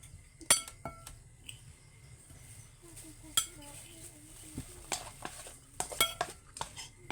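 A sweet condensed-milk mixture is stirred in a pot with metal utensils at home, giving scattered sharp clinks and scrapes in irregular bursts over a low background hum, with faint voices.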